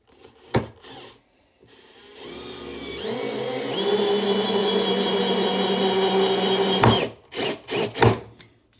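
A Parkside 12V cordless drill drives a long screw into thick, sturdy wood with a steady whirring whine lasting several seconds, framed by close clicks and knocks before and after.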